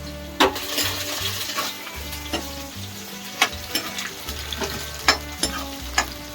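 Onions frying in a pan with a bright continuous sizzle, punctuated by several metallic clinks of a utensil stirring against the pan, close by and without speech.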